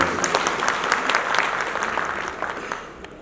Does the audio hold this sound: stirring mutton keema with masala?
no